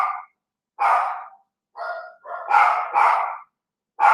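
Several dogs bark indoors in a sequence of loud, close bursts: one yap, then a pause, then a quick run of overlapping barks and a final bark starting, with no talk over them.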